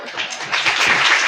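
A congregation claps in a brief, dense burst of applause, close and fairly loud, which swells slightly toward the end.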